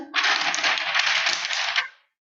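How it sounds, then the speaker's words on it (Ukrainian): An ordinary piece of paper shaken rapidly in the hand gives a loud, dense rustling flutter that lasts about two seconds and then stops abruptly. "У мене зараз в руках звичайний папірець. Якщо я ось так їх потріпочу, чуєте? Лунає звук."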